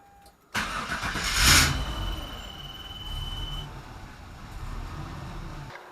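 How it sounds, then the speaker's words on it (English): A Chevrolet Nova's fuel pump cuts on abruptly and hums with a steady mechanical whir over a low engine rumble, repeatedly switching off and on due to a fault. "Hear how the fuel pump keeps coming off and on?"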